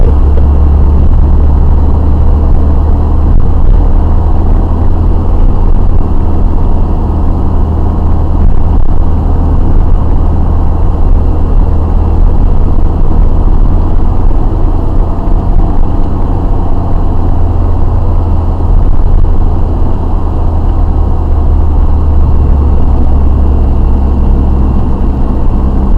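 A car engine pulls steadily in second gear around a bend, a continuous loud mid-range drone with deep low rumble holding even for the whole stretch.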